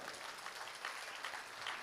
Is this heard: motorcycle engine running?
no